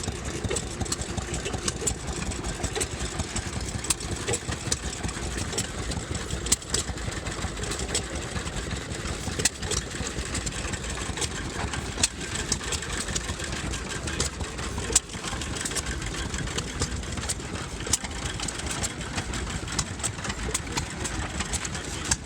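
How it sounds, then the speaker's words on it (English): A 1910 Fuller Johnson 1-horsepower farm pump engine with a pump jack attachment runs steadily at an outdoor engine show, a continuous even chugging drone with small irregular knocks, heard alone without talk. "Fuller Johnson farm pump engine from 1910."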